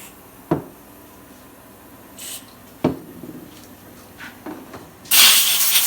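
Compressed air blasts through the brake orifices of a Polaris Razor in short knocks and faint puffs, ending in a loud, sustained hiss of air, close by.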